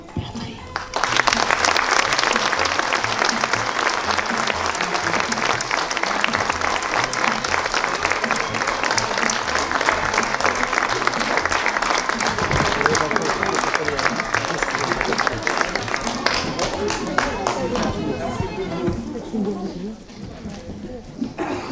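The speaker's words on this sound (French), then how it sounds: "S'il vous plaît, on peut les applaudir encore?" A church-hall style audience applauds at length after a sung Kabyle song performance at an evening reading event, with a dense, loud, sustained clapping that slowly thins and fades toward the end, with some voices mixed in.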